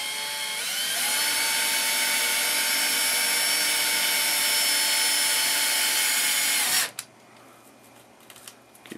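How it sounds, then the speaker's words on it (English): A power drill runs continuously at high speed for about seven seconds, loud and close, then stops abruptly, leaving quiet room noise. "Keep on drilling it up."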